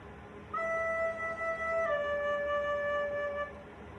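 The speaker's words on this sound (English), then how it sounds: "all I do is I tongue E and then I just lay my finger right over the key that makes it D" A soprano recorder plays a tongued E that glides smoothly into a slurred D, two clear sustained pure tones held for about three seconds in a quiet room, with no talking.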